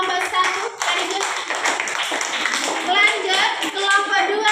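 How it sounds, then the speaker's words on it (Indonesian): Children in a grade 3 classroom clap together in a steady burst of applause for a group, loud and close, with excited kids' voices and chatter mixed throughout. "Pintar, tepuk tangan buat kelompok 1"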